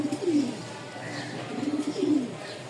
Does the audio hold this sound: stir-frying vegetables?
no